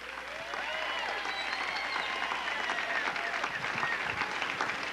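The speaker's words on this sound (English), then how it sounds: "Take a bow to a thunderous round of applause from your adoring fans" A live audience breaks into a thunderous round of applause after a stage show, dense steady clapping sustained throughout, close and loud with crowd noise mixed in.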